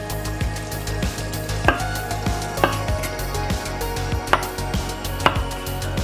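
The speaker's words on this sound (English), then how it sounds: "And the onion I'm gonna slice it small wedges, and the mushroom I just gonna cut it quarters." A kitchen knife slices an onion into small wedges and quarters mushrooms on a cutting board, with steady, close knocks against the board over a low background hum.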